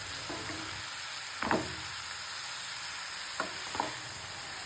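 Mustard greens frying in a pan give a steady, faint sizzle with a few brief utensil knocks and scrapes, and no one speaks.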